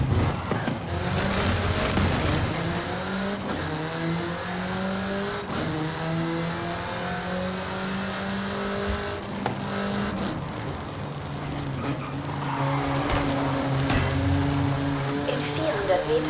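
A car accelerates in the racing game Forza Horizon 5 in Mexico, its engine revving steadily and loudly with rising and shifting tones, while voices talk over it.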